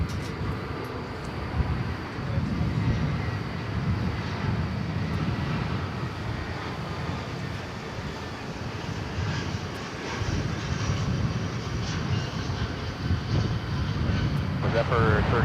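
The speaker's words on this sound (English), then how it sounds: "Yonder cometh the Delta aircraft" A Delta Airbus A320 at DFW Airport gives off a steady broad engine roar that holds for the whole stretch, loud and continuous, with voices heard faintly underneath.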